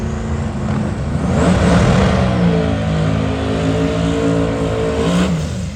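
A turbocharged Dodge Demon engine at a truck festival revs up loudly, a deep rising roar that holds steady and strong at close range, with no voices.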